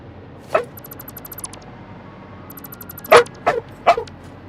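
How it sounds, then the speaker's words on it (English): A pet dog barks four times in short, sharp bursts close by, with a whimpering yip mixed in and a faint high electronic beeping from a computer game between the barks. "are you barking at me?"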